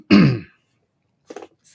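A single sharp throat-clearing cough from a man on a podcast, close and loud, followed by a brief pause and a faint second small noise.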